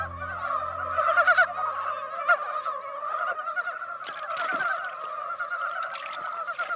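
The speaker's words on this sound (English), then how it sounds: "Creatures like these Dabowski frogs play the tune of all life" A chorus of Dybowski's frogs calling steadily in a Russian forest, a dense droning croak with bursts of higher chatter, continuous and moderately loud with no voices.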